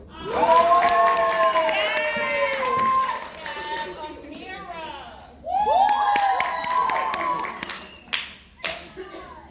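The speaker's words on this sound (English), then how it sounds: "Cheers for all the good family and friends we made throughout the year." Young children and family at a pre-K graduation cheer, shout and clap in loud waves, with excited high voices and scattered claps fading into a few single claps at the end.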